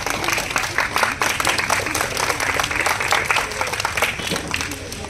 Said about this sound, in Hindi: सभी बच्चों से अंतों ने कृपया तालियां बजाएं।